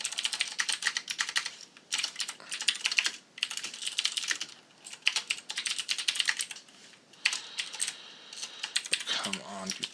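Rapid clattering keystrokes on a computer keyboard in bursts with short pauses, close and steady, during an MMO game programming session.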